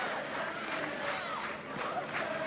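A football crowd cheers after a goal at an A-League match between Wellington Phoenix and Melbourne Victory, a dense, continuous roar of voices rising and swelling across the stands.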